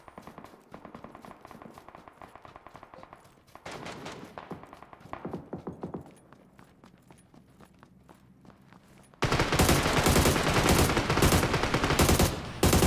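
Gunshots in a first-person shooter at a quarry: scattered single shots and short bursts build into a sudden, dense stretch of loud, rapid automatic fire near the end.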